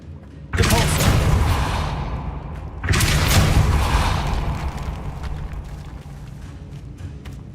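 Two heavy blasts from the Depulso force spell in Hogwarts Legacy, each a sudden loud booming burst followed by a long rumbling decay, the second arriving about two seconds after the first.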